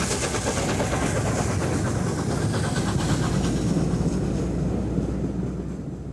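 The Mallard steam locomotive pulls out of Skipton on a northbound run, a loud, continuous rumbling roar of engine and rolling stock that stays close and steady throughout, with no voices.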